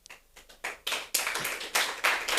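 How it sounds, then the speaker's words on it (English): A small audience at a climate policy talk breaks into a brief round of applause, with scattered claps starting sparse and building into a quick burst close by, the whole thing lasting only a couple of seconds. "Might be the first and last round of applause I get this one."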